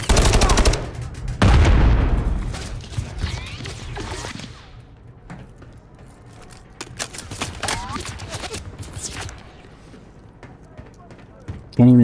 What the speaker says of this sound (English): That gun is shooting me through the wall.